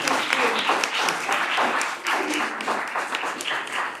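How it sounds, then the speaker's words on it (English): Audience applause at a National Women's Day peace symposium, a steady dense wash of clapping held for several seconds at moderate level, with a voice faintly audible beneath it. "a warm applause to Ms. Jessica."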